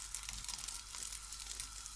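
Sausage frying in a pan alongside egg toast on low heat, a faint, steady crackling sizzle with no voices.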